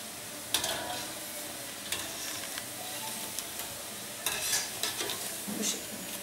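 Oil sizzles and bubbles steadily over low heat as lokma dough balls deep-fry, with occasional scrapes and clinks of a utensil stirring in the pan.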